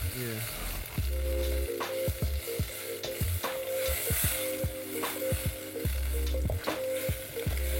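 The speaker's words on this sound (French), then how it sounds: "Là, je vais arrêter la cuisson puisque notre beurre a bien coloré." Butter sizzles and crackles steadily in a pan, with bursts of spattering and occasional scraping, close by and without talk.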